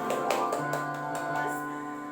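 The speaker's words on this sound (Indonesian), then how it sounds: "Tepuk tangan buat Tuhan Yesus." Young children clap their hands during a small children's Sunday worship service at a church in Depok, a few quick rhythmic claps at the start over sustained background music, then fading.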